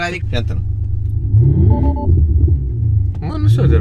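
A Tesla's external speaker plays a simulated exhaust sound, a steady low engine-like rumble with rising tonal hum in the middle, heard from inside the car under people talking in Romanian.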